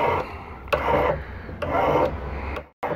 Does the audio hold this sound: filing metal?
yes